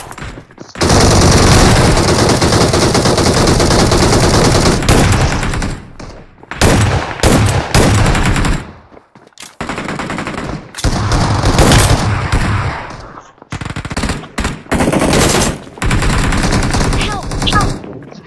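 Shotgun and other gunfire in the mobile battle royale game BGMI, loud dense bursts of repeated shots in long volleys separated by brief near-silent gaps, with occasional voice chat underneath.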